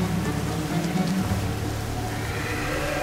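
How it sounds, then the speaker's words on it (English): Steady rain patters and hisses in the video game Rain, a dense continuous wash of falling drops at moderate loudness with no talking. "the rain's going again?"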